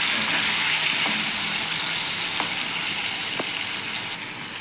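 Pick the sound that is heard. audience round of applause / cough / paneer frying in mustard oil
paneer frying in mustard oil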